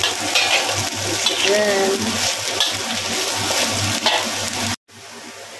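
Shimeji mushrooms frying in a pan, a steady loud sizzle with stirring scrapes and a low hum underneath, a brief spoken word near the start, cutting off abruptly near the end.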